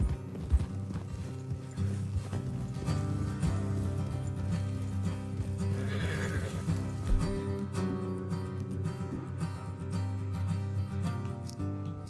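Horses in the Western game Red Dead Redemption 2 clop along in a continuous dense patter of hooves, with a brief whinny mixed into a busy, steady background.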